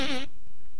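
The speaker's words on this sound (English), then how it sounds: "You are the one farting up a storm." A single short, buzzy fart with a wavering pitch sounds close and loud, then cuts off into near silence.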